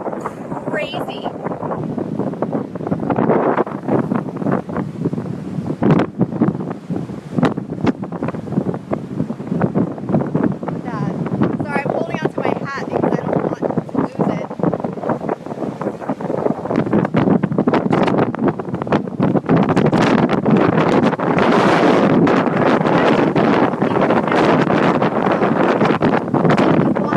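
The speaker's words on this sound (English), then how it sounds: "the wind is really just pushing me around" Strong gusts roar by the ocean in the Ocean View area of Norfolk, battering the microphone with a loud, continuous rushing blast that swells even harder toward the end.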